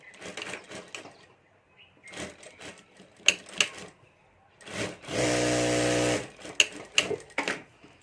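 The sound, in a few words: sewing machine stitching the side of a bag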